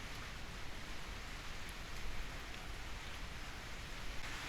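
Heavy rain pours outside in a steady, dense hiss that stays even and unbroken throughout, with no other sounds standing out.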